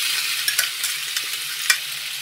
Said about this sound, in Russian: В разогретое масло выкладываем макароны.